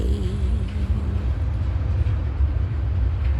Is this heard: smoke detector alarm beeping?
no